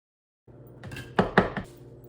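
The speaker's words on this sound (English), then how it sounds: "we're just gonna chop some onion and throw that in there" Onion being chopped on a board for a Crock-Pot ribeye steak stew, a few close knife thuds with two sharp prominent strikes over faint background noise, no talking.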